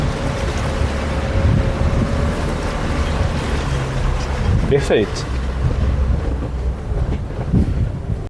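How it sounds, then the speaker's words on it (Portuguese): A 4x4 off-road vehicle crosses deep water at a steady speed in Abaeté, Minas Gerais, producing a continuous engine rumble and sloshing churn mixed with wind buffeting on the microphone; someone speaks briefly over it. "agora eu vou começar a travessia mantendo a velocidade constante"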